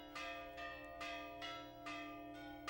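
Church bells ring in Astrakhan, Russia, struck in a steady rhythm of about six clear clangs, each with a long ringing tail, heard at a moderate distance.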